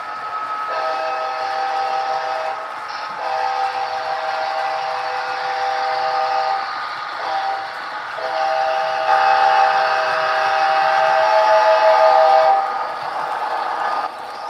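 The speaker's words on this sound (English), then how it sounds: "The horn is even louder, and I'm gonna play the horn." A loud, sustained train horn blares in long blasts as a train passes a crossing near a rail yard, with steady tonal chords interrupted by short gaps and no talking.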